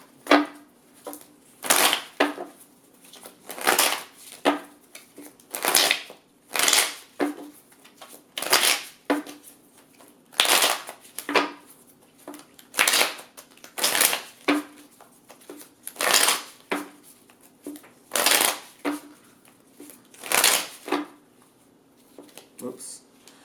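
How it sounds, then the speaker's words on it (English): A deck of tarot cards is shuffled over and over, with crisp riffling bursts repeating at a steady rhythm close by, and speech heard between some of the shuffles. "I'm going to shuffle again."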